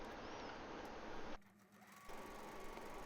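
A sewing machine runs steadily stitching the lining of a coin purse, a loud close continuous whir that stops briefly for a moment before starting again.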